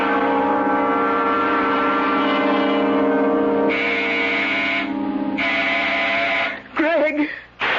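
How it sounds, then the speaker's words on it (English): A door buzzer sound effect in a CBS radio mystery drama drones as a long, steady, harsh buzz for several seconds, then cuts off as a voice briefly speaks at the end. "When Sandy pushes that door buzzer, listen to it carefully, Florence."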